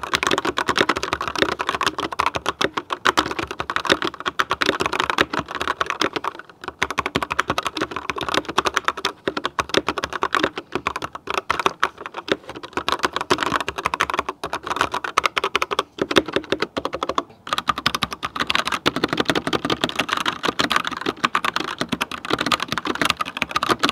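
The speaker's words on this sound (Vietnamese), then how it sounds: "Và sau đây sẽ là sound test của hai switch, đó là Dream và Firefly." A DareU EK87L TKL mechanical keyboard with Dream and Firefly switches, typed on continuously at close range, with a fast, dense, loud clatter of keystrokes throughout and no talk.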